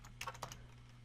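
Quiet typing on a computer keyboard: a short cluster of soft key taps over a low steady electrical hum.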